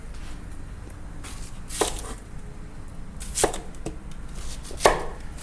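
A knife chopping onions on a board for soup stock, three or four sharp, sparse cuts over a steady background hum.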